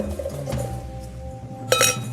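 A wine glass gives a single bright clink partway through a pour, over a soft background of liquid and movement.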